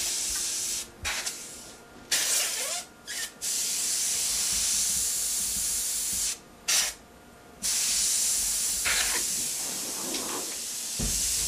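An airbrush sprays Sunrise Yellow Kratex paint onto a black shirt, a loud close steady hiss of air and paint that cuts off in short pauses between bursts, with no talking.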